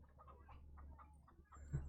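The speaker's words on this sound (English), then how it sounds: "Just the random chickens." Soft, distant clucking of a few chickens carries through in short irregular bursts over a low background hum, quiet and unobtrusive.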